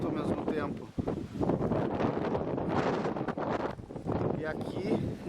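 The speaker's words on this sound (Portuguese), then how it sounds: "tempestade de areia e de vento ao mesmo tempo." Strong gusting wind with blowing sand buffets an outdoor microphone in rough, continuous bursts at Peruíbe, with people talking underneath.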